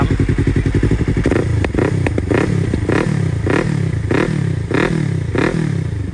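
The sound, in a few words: Yamaha R3 motorcycle engine revving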